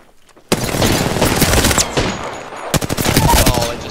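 Rapid automatic gunfire in the shooter game Apex Legends crackles in dense, loud bursts, pausing briefly before another volley, with a player's voice faintly underneath.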